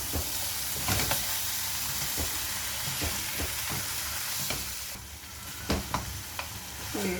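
Small chicken pieces for a restaurant-style chilli chicken fry being mixed with spices, heard as close, irregular scraping and slapping strokes over a steady hiss, with a brief quieter stretch near the end.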